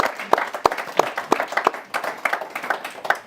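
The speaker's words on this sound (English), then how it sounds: "Give the man a round of applause, please." An audience at a Q&A session gives a short round of applause, a scattered run of claps that builds into a dense patter of hands, moderately close.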